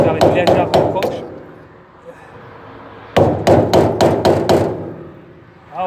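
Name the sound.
hammer tapping screwdriver on trailer wheel bearing cap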